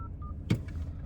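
Brief telephone keypad tones as a number is dialed outdoors at a car lot in Kentucky, with a couple of thin beeps and one louder burst over low background noise.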